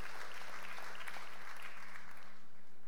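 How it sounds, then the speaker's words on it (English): A church audience claps during a sermon, with a steady, dense patter of many hands that carries on without a break for a few seconds. "I ain't got time for clapping."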